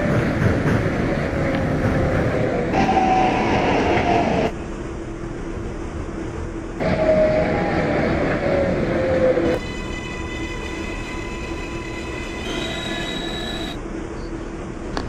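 Simulated R142 subway train on a Manhattan-bound 6 local in the Bronx, running with steady motor and rail roar, a rising traction whine, and brief wheel squeals, loud and continuous throughout.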